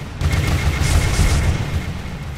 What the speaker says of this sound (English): Oh, there goes the interceptor torpedoes, dealing a hell of a lot of damage.